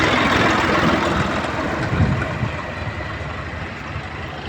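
A heavy engine rumbles steadily at close range, a low throbbing drone with broadband noise that eases slightly toward the end.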